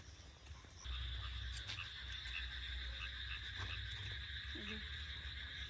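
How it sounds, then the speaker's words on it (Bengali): Frogs croak in a constant dense chorus on a rainy, dark night during a power cut, with rain hissing underneath and a low rumble throughout. "চারিদিকে শুধু ব্যাঙের ডাক"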